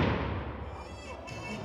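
Black powder musket firing during a historical reenactment, a loud booming blast that decays into a long rumbling roar, heard outdoors.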